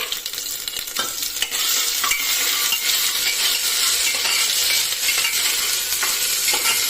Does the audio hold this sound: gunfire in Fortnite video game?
no